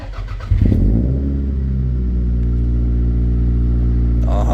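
A 1998 Toyota Celica GT engine cranks and catches, then settles into a steady, loud idle with a faint exhaust rattle running underneath, close by and without talk.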